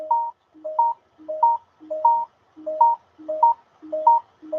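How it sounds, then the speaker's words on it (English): A mobile phone rings with a repeating melodic tone, about eight short even bursts in steady rhythm, clear and close, with no talking. "that's my phone."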